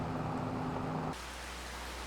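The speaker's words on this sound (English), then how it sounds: "It is raining, as you can see." Steady rain in Farming Simulator 25 on an Iowa farm, a broad hissing downpour with a low rumble underneath, the tone shifting abruptly midway to a thinner, more even rain wash.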